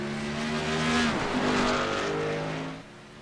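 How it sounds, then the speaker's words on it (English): Stock cars scream down a straight at Motegi in a racing sim game, a loud sustained engine whine rising in pitch before cutting off near the end. "Absolutely flying down the straights, these stock cars"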